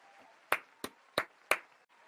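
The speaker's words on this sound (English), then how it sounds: "Round of applause for this dude." Four sharp single hand claps spaced about a third of a second apart, close and dry, with no crowd around them, given in mock applause during a news podcast.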